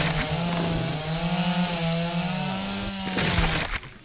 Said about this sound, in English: the bad part about double chainsaws is you can't see when you're chainsawing